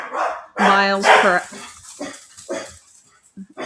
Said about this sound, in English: the doorbell rang, and now my dog is losing her marbles